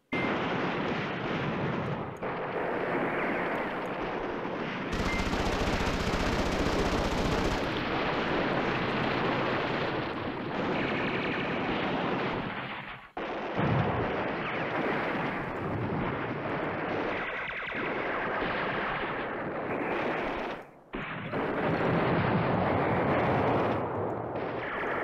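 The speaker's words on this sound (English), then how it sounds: "So let's bring in airstrike." Airstrike in the Command Ops 2 wargame, a long dense wash of explosions and rolling gunfire, loud and continuous, with brief dips in between bursts.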